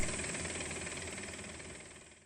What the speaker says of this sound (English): The noise in the background is the tilt tray idling